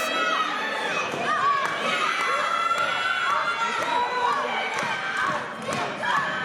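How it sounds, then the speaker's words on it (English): A wrestling crowd at the ETWA Ghouls, Grapples and Glory event roars steadily behind the Beast King, a dense continuous wash of cheers and shouts with occasional thuds, a commentator talking over it. "And a crowd getting behind the Beast King."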